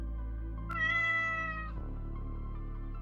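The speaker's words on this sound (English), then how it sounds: "It's me, Mario. Meow." Cat meow sound effect in a Mario video game: a single clear, drawn-out meow rising and falling over steady game music, close and distinct.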